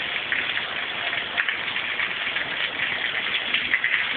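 Steady rain falls outdoors, a continuous dense hiss of drops on surfaces, fairly close and even throughout, with no voices.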